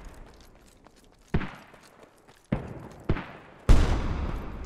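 Several heavy booming blasts of mortars and hell cannon artillery in the video game Squad, on a Fallujah map, go off at irregular intervals, the last one loudest and closest, each trailing into a short rumble.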